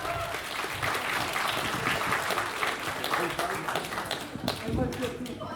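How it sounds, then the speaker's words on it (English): A live show audience at the CanFURence 2019 convention gives a sustained round of applause, dense and steady clapping from many hands that slowly thins toward the end. "Let's give another big round of applause to Fluffies"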